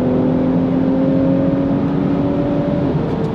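Audi B9 S4 pulling hard from a roll through the gears, a loud, close, steady engine drone with rising whine and a brief dip near the end like a shift, no talking.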